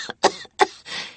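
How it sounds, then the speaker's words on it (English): A woman with a raw throat coughs in a quick series of three harsh, rasping bursts, close and loud, the last one dragging out into a rough, breathy rattle. "She coughed, her throat raw."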